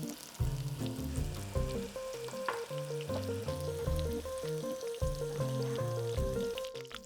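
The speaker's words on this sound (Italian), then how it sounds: "E senti come sfregolano." Potatoes frying in butter in a hot pan give a steady, close crackling sizzle that runs throughout, with stirring sounds and no talking.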